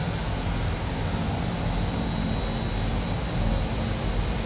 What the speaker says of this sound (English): a little bit of forward power on the right, a little bit of reversers on the left, and the airplane starts coming around the corner for us